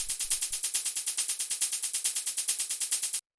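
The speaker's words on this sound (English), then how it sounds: "the next thing that we have here is this first hi-hat" A hard techno hi-hat plays alone, a rapid crisp bright tick repeating steadily about eight times a second, moderately quiet, then cutting off abruptly near the end.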